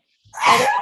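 A single short, sharp sneeze bursts out close by, loud and abrupt, with no talking around it.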